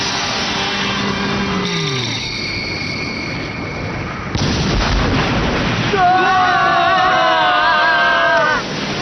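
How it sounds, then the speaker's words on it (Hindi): A loud blast booms through a Beyblade anime battle, a sudden broad burst followed by rumbling sustained noise, with tonal whooshing effects before and a rising whine after. "क्या बात है, कितना बड़ा धमाका था।"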